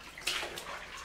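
Shallow water lies at the entrance of a 1936 sewage tunnel built for a planned motorway interchange. A brief, faint splash is followed by soft trickling and dripping in a quiet, enclosed space.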